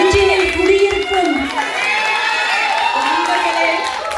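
Audience at a Tamil Pongal debate show clapping and whistling in support of the ladies' team, a loud sustained crowd roar with shrill whistles and whoops layered over continuous applause.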